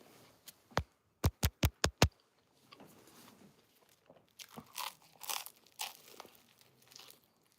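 A quick series of sharp, crisp crunches from biting into a sandwich on crunchy bread, followed by quieter chewing sounds close to the mic.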